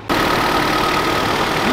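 A Honda vehicle idles close by with a loud, steady buzzing drone that sounds like a lawnmower, starting abruptly and holding constant for under two seconds.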